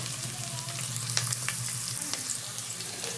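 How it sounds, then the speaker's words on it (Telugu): Onions fry in a pan while making a prawn curry, a steady close sizzle with light crackles and occasional stirring scrapes, continuous throughout and with no one speaking. "ఎర్రగడ్డలు కాస్తంత వాడినేద్దాం"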